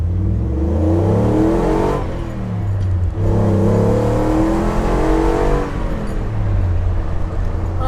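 A restored 1970 Ford Bronco with a Coyote 5.0 V8 accelerates on a canyon road, its engine rising in pitch through a gear, dropping briefly at a shift, then pulling again, loud and close from the cabin.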